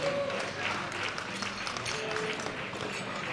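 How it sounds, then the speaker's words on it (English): Scattered applause from spectators at a world open powerlifting championship, moderately loud and uneven, mixed with arena murmur and some voices talking. "Give him a round of applause."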